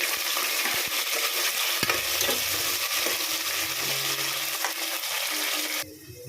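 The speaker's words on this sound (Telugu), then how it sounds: "ఆనియన్ అయితే మంచిగా ఫ్రై అయితే అయిపోయింది" Onions frying in a pan with a steady, loud sizzle, with occasional scrapes and knocks from stirring throughout, the hiss cutting off abruptly near the end.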